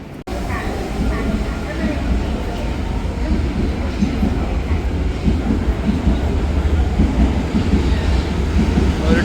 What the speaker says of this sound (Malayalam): ഒരു ട്രെയിൻ പോയി കഴിഞ്ഞു